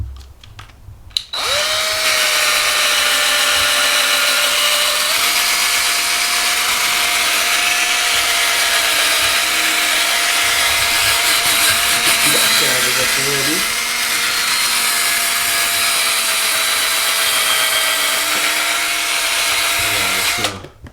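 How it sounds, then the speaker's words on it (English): An electric drill whirs continuously at close range, its pitch shifting slightly midway before it stops near the end. "pop on the drill"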